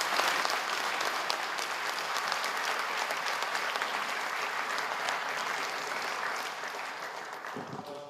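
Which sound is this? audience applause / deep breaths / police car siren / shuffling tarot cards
audience applause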